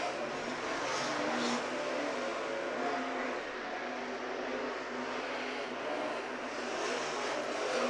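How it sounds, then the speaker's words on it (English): Promod race cars with big engines roar through hot laps at a Kalgoorlie speedway, a loud, sustained engine drone with steady revving and no clear breaks. "You can definitely hear the difference between these ones and the Bs. A lot bigger engines."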